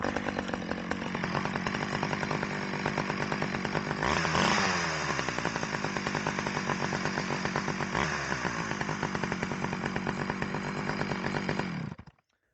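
A Stihl 011 AV chainsaw runs loud and close, its two-stroke engine droning steadily with a couple of revving swells partway through before it cuts off at the end.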